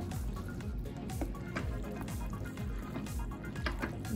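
A crock pot mixture with mozzarella and Parmesan is stirred close up, giving faint, soft, wet squishing and sloshing that goes on steadily for a few seconds, with no one talking.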